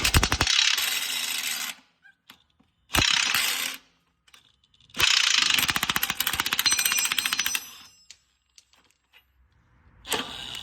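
A ratchet wrench works the 21 mm bottom shock bolt and nut on a 2018 GMC Yukon Denali rear air shock, with loud, close clicking bursts broken by silent pauses and no talking.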